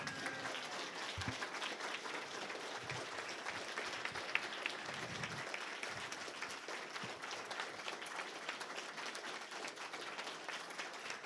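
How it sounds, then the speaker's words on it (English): Audience applause at a Democratic congressional debate in Culpeper, Virginia: a faint, distant, continuous patter of many hands clapping that holds steady throughout. "Okay, everybody can clap now."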